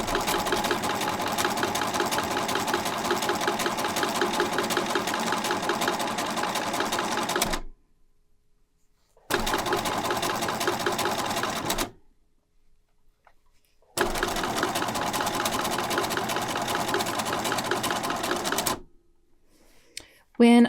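A sewing machine stitches fabric for a heart-shaped tooth fairy pillow, running in steady loud bursts that stop twice for a few seconds before the motor starts again.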